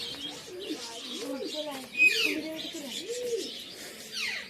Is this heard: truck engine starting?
no